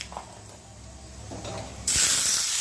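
Mustard seeds, cumin, asafoetida and curry leaves hit hot tempering oil for a coconut chutney, a faint crackle suddenly bursting into a loud, steady hiss of sizzling close by.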